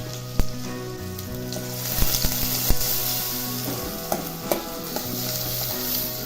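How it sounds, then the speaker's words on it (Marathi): Garlic, onion and turmeric fry in hot oil with mustard seeds for a drumstick leaf bhaji, giving a steady close sizzle broken by sharp spoon knocks and stirring clatter. "लसूण टाकायचा कांदा टाकायचा हळद टाकायचा"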